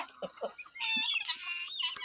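Chickens cluck nearby in a village in the morning, a few short clucks followed by a longer, drawn-out cackling call, with no talking.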